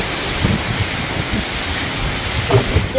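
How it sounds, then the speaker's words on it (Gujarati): Steady rain falling in a village during stormy, gusty weather, a loud continuous wash of drops with a few heavier thumps. "હજી વરસાદ તો ચાલુ જ છે એમનું."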